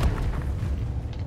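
A Confringo spell erupts as an explosion in Hogwarts Legacy, a loud, deep rumbling boom that swells and holds for just over a second.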